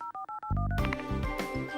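Cartoon telephone keypad being dialed, a quick run of five or six distinct DTMF tone beeps, followed by a loud burst of cartoon music and sound.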